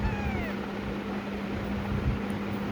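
A pet cat gives a few short meows near the start, rising and falling, then fades under a steady low hum and room noise.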